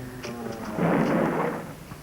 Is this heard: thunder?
yes